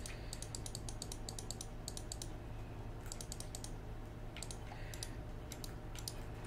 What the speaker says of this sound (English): Sorry if you can hear some clicking in the background